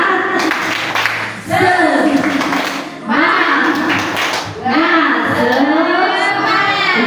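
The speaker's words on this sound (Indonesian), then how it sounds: "Biar semangat, tepuk semangat" A group claps and chants together in short bursts, with voices shouting along to the clapping in loud repeated phrases.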